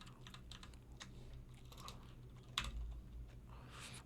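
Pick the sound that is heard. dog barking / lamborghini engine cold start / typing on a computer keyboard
typing on a computer keyboard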